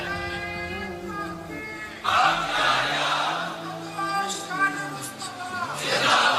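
A large crowd at a Ramzan religious gathering marking the Battle of Badr chants a slogan in unison, many loud voices swelling together after a single voice leads in.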